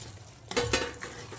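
Paneer is tipped into a pan of spinach gravy and stirred, with a brief clatter of a utensil against the pan, soft wet scraping and a light sizzle underneath, close and short.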